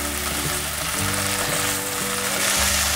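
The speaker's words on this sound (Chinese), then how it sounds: "把豆包煎至金黄色。" Bean buns pan-frying in a little oil, a dense continuous sizzle with crackles and pops holding steady and loud throughout, with no talking.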